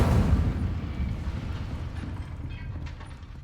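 In Hogwarts Legacy, the Incendio fire spell gives off a loud rumbling whoosh of flame, heavy and low at first, then tapering off over a few seconds.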